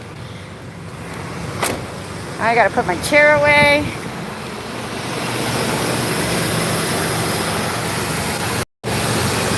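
A small car engine runs with a steady, fairly loud broadband rumble, starting after a few seconds of talking and continuing to the end, with a brief dropout near the finish.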